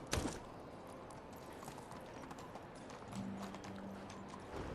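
Steady clip-clop of hooves, a horse moving at pace in the video game Medieval Dynasty amid a busy, noisy backdrop, with a brief bump near the start.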